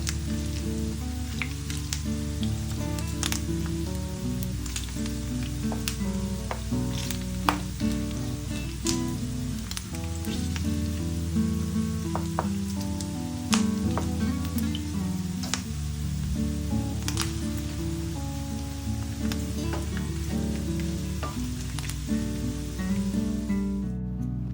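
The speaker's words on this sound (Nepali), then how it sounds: "मासु फ्राई गर्दाखेरि चाहिँ एकदमै याद गरेर गर्नुहोला, किनभने एकदमै बेसी मात्रामा पड्किन्छ अथवा यो तेलहरू उछिटिन्छ।" Pieces of meat fry in hot oil until golden brown for Nepali thukpa, a steady close sizzle with scattered pops and spatters running throughout with no talk.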